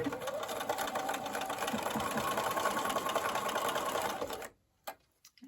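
A sewing machine runs steadily, stitching fabric strips together for a granny-square quilted table topper, a continuous close whirring hum for several seconds before stopping abruptly, followed by a few faint handling clicks.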